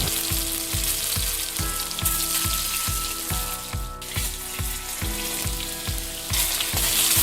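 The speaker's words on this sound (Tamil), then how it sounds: "நல்லா எண்ணெய் சூடானதும் இந்த ஊற வச்ச சிக்கனை கொஞ்சம் கொஞ்சமாக போட்டு மீடியம் ஃப்ளேமில் ஃப்ரை பண்ணி எடுத்துடுங்க" Marinated chicken deep-fries in hot oil over a medium flame with a loud, continuous sizzle and crackle. A regular scraping or stirring stroke recurs about twice a second throughout, with no talking.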